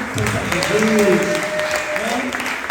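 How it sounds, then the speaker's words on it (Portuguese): Church congregation applauding during an evangelical service, steady clapping throughout with a voice speaking and tonal sung or spoken lines riding over it. "Vamos aplaudir o nosso Deus por nosso irmão"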